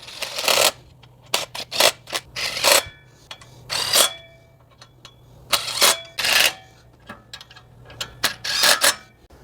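Impact wrench torquing down the bolts of a pedestal stand during assembly, heard as repeated short rattling bursts of hammering, some longer and some clipped, close and fairly loud, with brief pauses between them.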